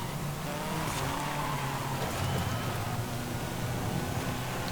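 Turbocharged engine of a front-engine, rear-wheel-drive Mitsubishi Starion in Forza Horizon 5, a steady droning engine tone that holds near and even throughout without talk.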